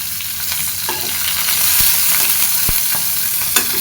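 Cumin seeds and green chilies sizzle in hot oil for a vegetable dish, a steady close crackle with scattered sharp pops and spits and no voices.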